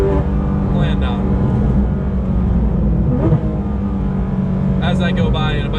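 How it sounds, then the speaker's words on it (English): A Porsche GT3 RS exhaust drones loudly and continuously while driving, a dense low roar with brief sharper flares, alone without talk. "But can't talk over the exhaust note, it's rude."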